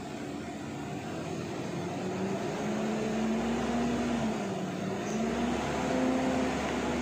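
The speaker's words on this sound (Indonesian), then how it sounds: "Mesinnya kita hidupkan terlebih dahulu. Kita panaskan sampai suhu kerja, kira-kira 10 sampai 15 menit." A car engine idles steadily while warming up to operating temperature, in a check for overheating without coolant leaks; a low continuous hum with a faint tonal whine drifting in pitch, even and unbroken throughout.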